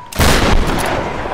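A shotgun blast in the video game Tomb Raider, one loud booming shot that rings out and decays into a long rumbling tail.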